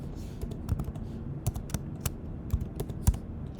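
Rapid typing on a computer keyboard while entering an equation into Desmos, a steady patter of close, crisp key clicks with irregular rhythm.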